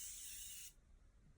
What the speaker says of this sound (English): I'm actually going to spray this setting spray real quick